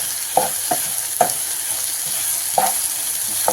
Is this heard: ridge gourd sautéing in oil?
yes